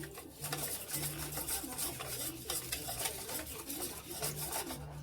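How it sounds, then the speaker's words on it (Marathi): A spoon stirs and scrapes an orange jelly mix of sugar and cornflour in a bowl, making rhythmic gritty rasping strokes, close and steady, with a faint bird cooing in the background. "आणि हे सगळं छान मिक्स करायचं एकजीव"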